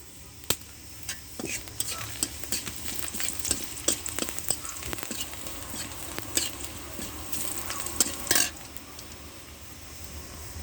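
Onions with shahi cumin frying in oil, a continuous crackling sizzle punctuated by frequent spatula scrapes and clinks against the pan, close and moderately loud, no speech.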